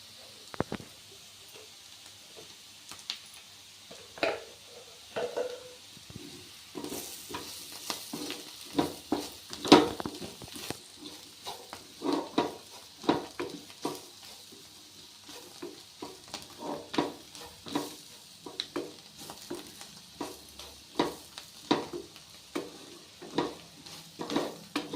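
Bitter gourd (kakarkai) frying in a pan while being stirred, a steady crackling sizzle broken by frequent close scrapes and clacks of the spoon, with no voice.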